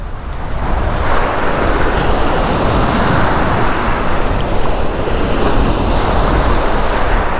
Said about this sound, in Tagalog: Ang lalaki ng alon.